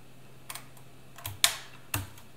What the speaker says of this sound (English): So we can just clip that on.